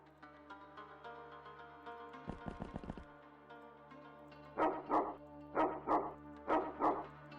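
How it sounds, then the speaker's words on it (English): Cartoonish dog barks from the video game XPiratez ring out over steady game music: a quick burst of yips, then three louder, evenly spaced bark pairs close up. "Bark at somebody enough,"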